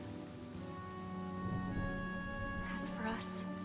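Rain patters steadily on surfaces during a Honkai: Star Rail cutscene, a soft continuous hiss with scattered drops over a sustained musical drone.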